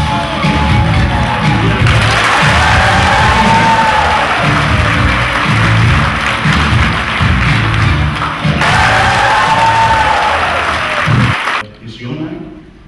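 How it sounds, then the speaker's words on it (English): Loud crowd applause and cheering at a glamorous gala night, dense clapping with whoops and shouts rising in two long bursts before cutting off abruptly at the end. "then you will bring on our applause, please"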